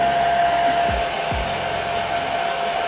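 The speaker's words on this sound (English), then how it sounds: "I'm just gonna blow dry it again." A hair dryer blows continuously at close range while glued eyebrows are being dried flat, a steady loud whir with a constant tone and a couple of brief low bumps from handling.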